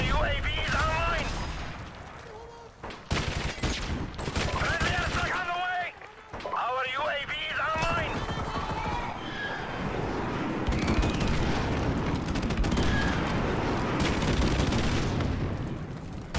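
Rapid bursts of rifle fire and impacts from Call of Duty: Modern Warfare Remastered multiplayer, loud and close, broken by short pauses, with voices talking over and between the shots.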